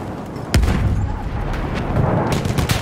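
Battlefield 1 gunfire in an operations battle: a sharp heavy shot, then continuous rumbling gunfire and distant booms layered in a loud, chaotic battlefield mix.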